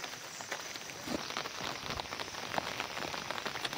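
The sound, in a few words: rain falling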